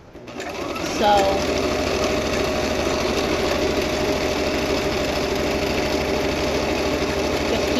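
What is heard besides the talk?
sewing machine zigzag stitching stretchy T-shirt fabric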